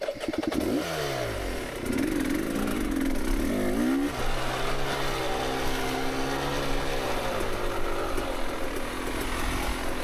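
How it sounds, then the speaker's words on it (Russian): A motorcycle engine fitted with an XTNG GEN3+ carburetor revs, then coasts off-throttle with a smooth, steady droning hum and no popping, heard close and continuous for ten seconds. "сейчас прям слышу, что действительно мотор накатом едет по-другому"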